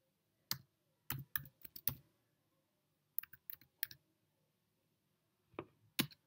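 Quiet, close keystrokes on a computer keyboard as a user ID is typed, in short irregular bursts of clicks separated by pauses.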